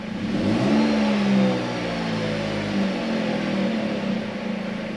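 A 2008 Dodge Avenger 2.4L engine running smoothly after a camshaft position sensor replacement, a steady mid-pitched hum with a brief rev near the start, close and alone without talk.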